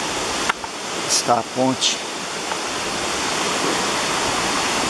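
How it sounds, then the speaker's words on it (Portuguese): A small roadside waterfall of about 5 to 8 metres' drop gives a steady, dense rushing roar throughout, briefly overlaid by a short spoken phrase near the start. "Aqui tem uma pequena cachoeira, fica próximo da estrada."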